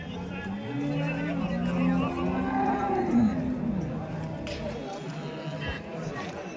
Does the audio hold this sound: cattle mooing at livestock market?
yes